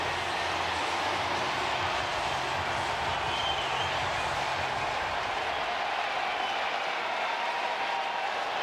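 A baseball crowd at a Seattle Mariners home game against the Tampa Bay Rays, cheering and applauding in a dense, continuous stadium roar that holds steady throughout.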